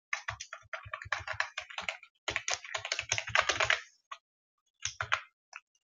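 Rapid bursts of typing on a computer keyboard while entering code, dense clicking for several seconds, a pause, then a few short sporadic keystrokes near the end; close and clear with no voices.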